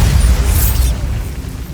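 A Bombarda spell explosion from the Hogwarts Legacy video game: a loud, dense booming burst with a bright crackling hiss that fades within a second, leaving a sustained low rumble.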